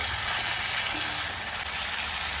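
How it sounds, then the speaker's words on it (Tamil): Mango pieces sautéing in hot oil in a pan for a mango curry give a steady, dense sizzle that holds loud and even from start to finish, with no talk. "வதங்கணும் பாருங்கள் எப்படி வதங்குதுங்கிறத பாருங்கள்"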